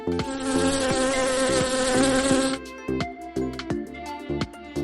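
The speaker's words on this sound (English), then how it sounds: "The sound of bee." A bee buzzes in a loud, continuous drone for a couple of seconds, then the buzz breaks into short, pulsing bursts.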